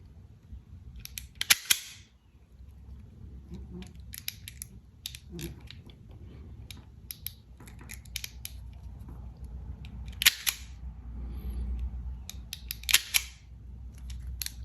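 Knipex PreciStrip16 automatic wire strippers snap through insulation in a few sharp clicks with mechanical clacks between them, close by against a low background hum.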